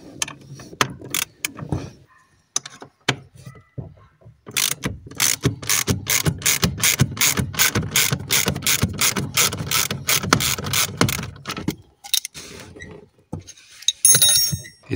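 Ratchet wrench removing a nut and bolt from the dashboard of an Alfa Romeo 33 1.7 16v, a few scattered clicks, then a long fast run of steady ratcheting clicks close up, then sparse clicks again.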